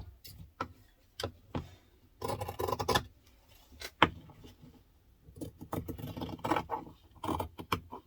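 Fabric being cut with scissors while sewing an onigiri bag, a run of close snips and crisp clicks in short bursts with quiet gaps between them.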